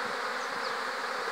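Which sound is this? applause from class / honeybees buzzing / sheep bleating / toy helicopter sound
honeybees buzzing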